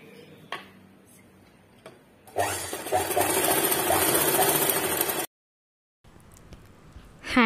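A sewing machine stitches a nighty being converted into a kurti, a few light ticks giving way to a loud rapid mechanical whir for about three seconds, then silence and quieter clicks near the end.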